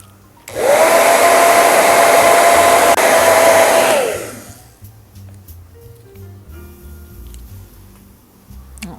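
A hair dryer dries a nautical-themed mosaic piece, roaring loud and close with a steady whine for about three and a half seconds before it switches off, followed by faint handling clicks and rustles.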